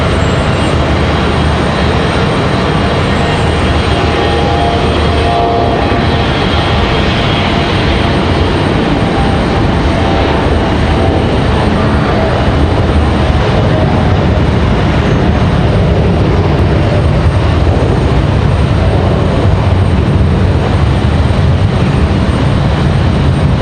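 A CRJ regional jet departs from Raleigh-Durham International, its engine roar steady and broad, loud and sustained throughout with no voices over it.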